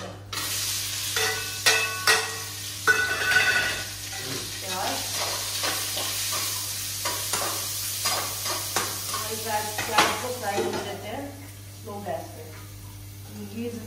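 Vegetables fry in a pan with cumin and asafoetida, giving a steady sizzle broken by stirring scrapes and clinks. A voice speaks over it at times.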